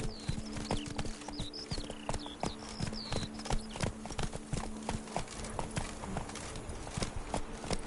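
Horse hooves clip-clop in a quick, even rhythm in a PS4 video game, close and continuous over quiet game ambience, with faint whistling tones early on.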